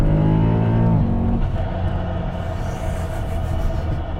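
Supercharged G-Power BMW E92 M3 engine rumbling loud and close, a falling rev tone during a downshift settling into a deep idle-like burble, with no distinct pops standing out.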